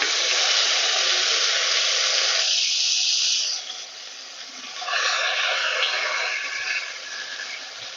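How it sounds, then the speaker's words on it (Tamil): Mustard seeds spluttering in hot oil in a pan, a dense bright sizzle that drops quieter midway, then swells again into crackling fizz and gradually settles. "இப்போ பார்த்தீங்கன்னா கடுகு எல்லாம் நல்லா பொரிய ஆரம்பிச்சிச்சு"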